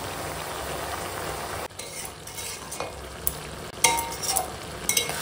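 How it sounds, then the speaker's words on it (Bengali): A fried rohu fish head goes into a pan of sizzling vegetable curry with spinach, loud crackling hiss, then sharper bursts of frying and utensil scrapes, close with no talk. "এখন দিয়ে দেবো ভেজে রাখা রুইয়ের মাথা। তো এখন তরকারিটা রান্না হবে।"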